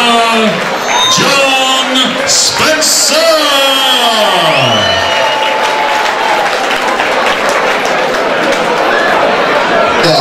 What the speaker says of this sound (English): give a big round of applause to his opponents from Manchester